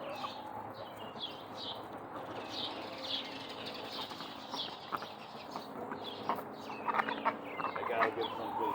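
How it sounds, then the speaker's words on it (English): Excited backyard chickens cluck and squawk continuously at close range, a busy overlapping flock noise with sharp calls rising toward the end, with faint voices underneath. "I gotta give some to the chickens. They're going bananas."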